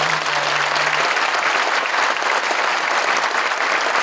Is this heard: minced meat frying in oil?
no